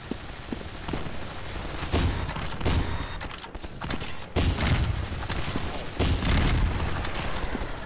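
Sci-fi weapons fire in the first-person shooter CSS Sci Fi 3: Hardwired, in the Ancient Town level: sharp, loud bursts of shots recur every second or two over a busy, noisy game background.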